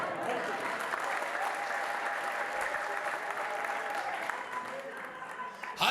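An Ethiopian church congregation claps during a lively worship service, producing steady, sustained applause with crowd murmur and faint voices mixed beneath the clapping throughout.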